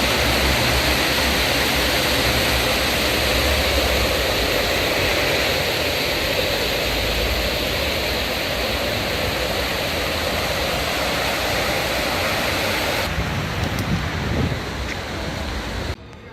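Manavgat waterfall in Turkey pours with a loud, continuous roar of rushing water. The steady wash fills the whole stretch and drops off slightly near the end.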